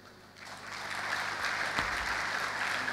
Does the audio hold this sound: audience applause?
yes